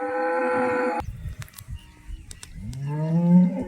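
An HF cross cow with black and white patches moos twice, a long, close low call followed by a rising second moo after a short quiet gap with faint background noise.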